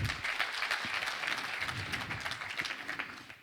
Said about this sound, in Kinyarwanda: Amashyi menshi cyane kuri Igor Mabano.